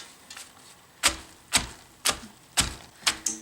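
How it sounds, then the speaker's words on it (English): Raw cabbage pounded by hand for sauerkraut, heard as six sharp, evenly spaced thuds about half a second apart, close and distinct against a quiet background. "So I've been pounding cabbage for 10 minutes now."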